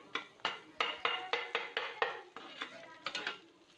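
A spoon stirs spices and ginger garlic paste while sautéing in a pan, making about a dozen quick, rhythmic clinks and scrapes against the metal, close but fairly soft.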